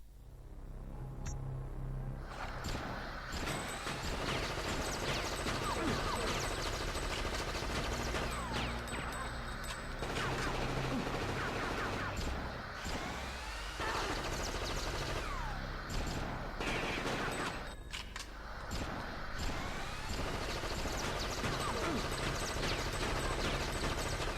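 Gunfire in the PS1 video game Fear Effect, a dense, sustained barrage of rapid shots and rumbling blasts that runs almost continuously with brief lulls, loud and close throughout.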